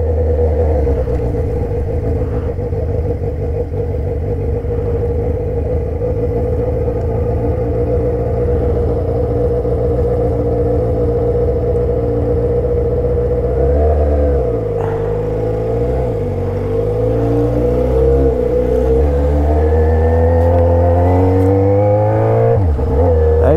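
A Yamaha XJ6 motorcycle fitted with a handmade 2.5-inch Atalla exhaust drones loudly and steadily while riding, with sustained engine roar and several rising rev sweeps near the end, no voices.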